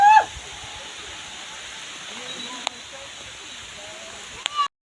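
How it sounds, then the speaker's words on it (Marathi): Steady rain hissing down at Lonavala, a broad even wash close by that holds for several seconds, with a couple of brief sharp knocks and a short rise near the end before it cuts out. "पाऊस यायलाय, पाऊस चालू झालाय."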